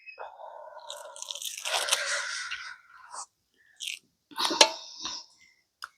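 Tough skin of palmyra fruits is broken by hand, giving crisp crunching and cracking bursts in short irregular bouts with quiet gaps, close and fairly soft.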